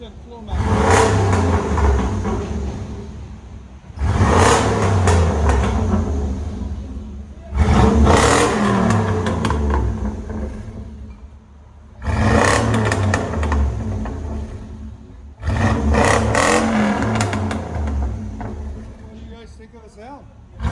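A 1988–2000 Chevy 1500 with a 5.7L V8 and a Flowmaster Super 10 exhaust revs in five loud, throaty bursts separated by short idle gaps, heard close up.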